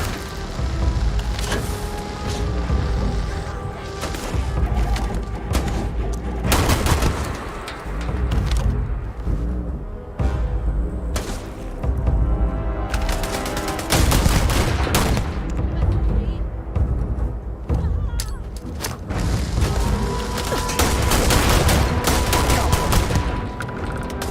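Dense, loud gunfire rattles almost nonstop in a Starfield firefight, bursts of automatic fire and heavy booms overlapping throughout, with a voice shouting over the shooting at times.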